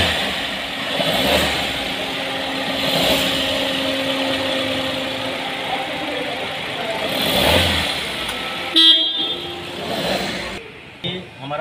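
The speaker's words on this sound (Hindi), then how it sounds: "चाहिए तो आपको इंजन का साउंड सुनाते" A Maruti Suzuki Ciaz engine idles after repair work on its battery drainage problem, a steady mid-pitched hum close by with a few swells, while someone talks over it throughout.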